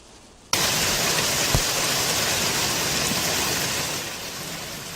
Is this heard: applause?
no